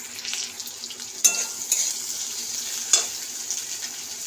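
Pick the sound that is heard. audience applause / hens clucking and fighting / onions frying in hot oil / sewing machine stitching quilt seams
onions frying in hot oil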